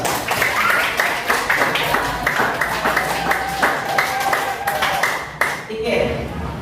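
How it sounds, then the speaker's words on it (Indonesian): Audience applause during an Islamic lesson on faith, Islam and ihsan, a steady spread of clapping that runs for several seconds with a voice cutting in near the end. "beri aplaus dulu"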